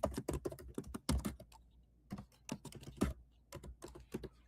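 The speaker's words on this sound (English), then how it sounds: "So typing something in, HTTPS, make sure it'll work." Rapid typing of a web address on a computer keyboard, close and fairly loud, with bursts of keystrokes and a short pause between runs.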